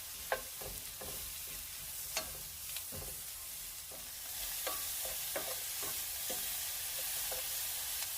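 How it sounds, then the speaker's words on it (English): Seasoned shrimp with lemon pepper sautéed in a pan, a steady close sizzle under repeated sharp scrapes and taps of a utensil stirring, irregular and fairly quiet, the frying hiss swelling in the second half, with no talk. "Give it a mix and quickly saute."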